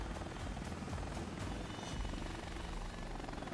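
A Mi-24 Hind helicopter in the video game Air Missions: HIND gives a steady, loud, continuous rotor and engine roar that fills the whole clip without letup.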